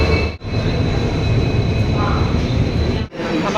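A loud, steady rumble of a large train arriving at a station at night fills the whole stretch, a continuous roar with faint high whine, close by and unbroken.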